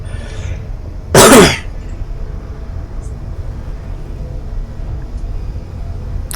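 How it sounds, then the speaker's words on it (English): A single close, loud cough into a headset microphone during a Space Engineers 2 gaming session, lasting about half a second, with quiet background hum before and after. "Sorry about coughing in your ears."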